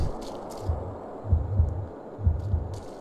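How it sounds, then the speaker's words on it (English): Heartbeat sound effect from the video game Manhunt, a low, muffled thumping in paired beats repeating steadily over a faint hum, with brief higher hisses in between. "At least the heartbeats are working this time."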